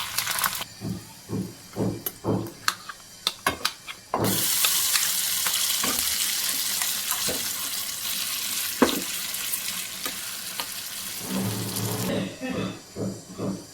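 Dry red chillies and curry leaves with urad dal and mustard seeds crackle and sizzle in hot oil while being stirred, with sharp popping bursts, then a sustained hiss as the tempering is mixed into chutney, ending in quieter clatter.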